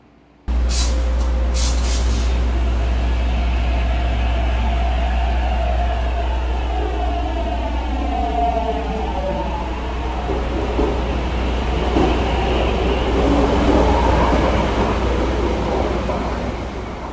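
East Rail R-Train departing in Roblox, a loud steady low rumble with rising and falling motor tones and hiss sustained throughout, a few brief high chimes near the start and no talk.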